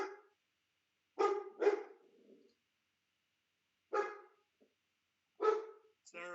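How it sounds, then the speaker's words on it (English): Several dogs bark in short separate bursts after a doorbell rings indoors, with a few loud clustered barks and long pauses of quiet between them. "That's just the dogs going crazy."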